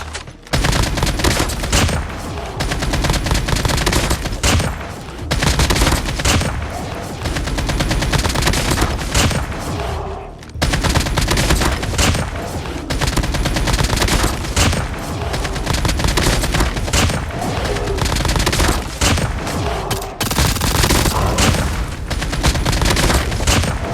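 Rapid gunfire from a shooter video game fills the stretch almost without pause, loud bursts of automatic fire and single shots layered with booms, with only a couple of brief lulls.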